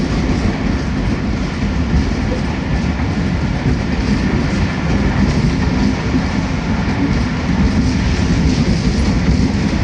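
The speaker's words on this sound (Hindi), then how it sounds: "बाहर शोर पड़ा है ट्रेन का, ये देखें व्यू आप।" A train rolls past outside, a loud continuous rumble with clattering wheels that holds steady throughout, with no voices over it.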